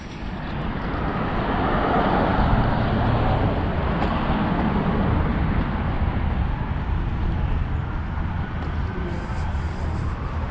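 Several RC off-road cars race at an indoor carpet track during a Nor Cal Hobbies Top Gun event, giving a continuous loud whirring roar of electric motors with broad background din, steady throughout and without clear talk.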